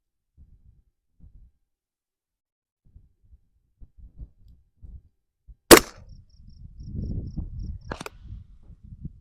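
A single sharp, loud AR-15 rifle shot with a 14.5-inch barrel cracks out at a target on an outdoor range, followed by a brief high ring and some low rumbling shuffle after the shot, with faint handling noises before it.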